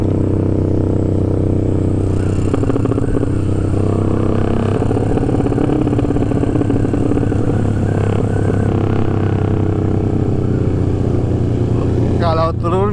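Motorcycle with worn piston rings and a smoky, slightly smelly exhaust, its engine and loud aftermarket pipe running steadily close by with a low rumbling drone, a brief rising rev near the end.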